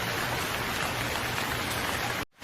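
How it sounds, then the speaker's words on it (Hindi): Steady hiss of rain beginning to fall in a cartoon sound effect, an even dense patter that holds level for about two seconds and then cuts off abruptly. "लेकिन अल्लाह का ऐसा करम हुआ कि वहीं पर बारिश शुरू हो गई"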